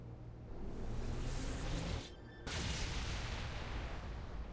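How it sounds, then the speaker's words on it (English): An explosion in a modded Halo 3 video game gives a loud, broad, roaring blast. It drops away briefly to near silence, then surges back into a sustained rumbling roar. "You see that explosion?"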